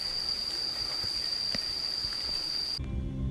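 Heavy rain falls steadily as a dense, even hiss with a constant high whine, then cuts abruptly to a low rumble near the end.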